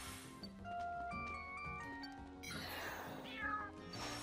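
Meowth from New Pokemon Snap lets out a short series of cat-like meows and yowls, close and clear over light game music, with a rougher, noisier cry near the end.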